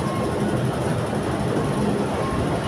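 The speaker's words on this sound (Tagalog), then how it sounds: "Nandiyan na yung tren." A steady, loud rumble of a train arriving at a station, with broadband rushing noise and a faint high squeal throughout, no voices.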